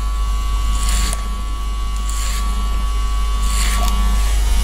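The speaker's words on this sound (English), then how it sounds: "Set my clipper to half open on the Babyliss FX Pro" Babyliss FX Pro hair clipper set half open runs with a steady close electric buzz while cutting hair, with three brief hissing bursts as it passes through the hair.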